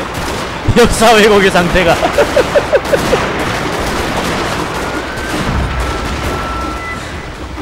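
Musket volleys in the Shogun 2 strategy game: a loud, rapid cluster of cracking shots early on, then a rolling scatter of fainter gunfire, with someone talking over it throughout.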